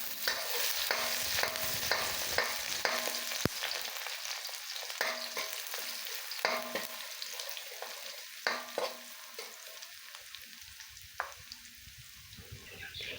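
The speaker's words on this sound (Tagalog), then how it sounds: "kapag mainit ng mantika, ilagay na natin ang hiniwang bawang" Sliced garlic sautés in hot oil in a pan for pork adobo: a bright, close sizzle broken by regular scraping stirs, with the frying easing toward the end.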